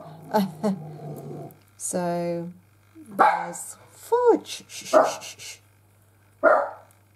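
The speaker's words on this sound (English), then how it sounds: "I apologise for the dog barking." A dog barks sharply several times close by indoors, loud separate barks with a whimper-like yip, while someone talks and hushes it between barks.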